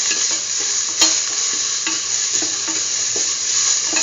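Chopped shallots, salted, sizzle in a pan while being stirred, a steady close frying hiss broken by soft scraping clicks, no voices.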